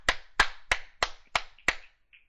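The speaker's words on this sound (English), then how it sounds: "Give her a round of applause." Six sharp hand claps from a single person during a radio show, evenly spaced at about three per second, crisp and close with short decays in an otherwise quiet space.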